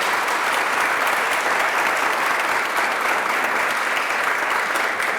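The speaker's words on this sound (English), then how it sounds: "can we give everyone, all of our panelists, a round of applause?" A seated audience applauds panelists at a New York panel discussion, with steady, dense clapping that holds at an even level from start to finish.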